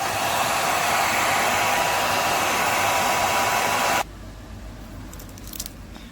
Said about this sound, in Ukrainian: Треба працювати з феном, нагрівати кусочок початковий скотчу